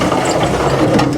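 The gear shifter of a Mack R Model truck is worked through the transmission gears, giving a brief, close burst of clunky mechanical ratcheting and grinding.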